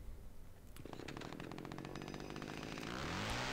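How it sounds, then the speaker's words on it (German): A monster's chainsaw in the horror video game Cry of Fear revs up and grows steadily louder, a rapid buzzing rattle that builds to a sustained roar toward the end. "Also da kommt irgendein Monster und das will dann mit der Kettensäge erwischen."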